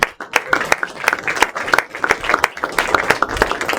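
Scattered, fairly close hand claps from a small forum audience applauding a speaker, uneven and sparse rather than a full ovation, with some room murmur underneath.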